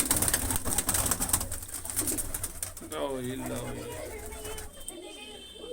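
Pigeons in new coops coo softly in low, rolling calls beneath someone speaking nearby, with rustling and background noise throughout.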